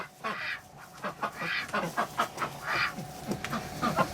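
Muscovy ducks in a barn on a bitterly cold, windy day give a run of soft, breathy hisses and low quacks, close by and irregular.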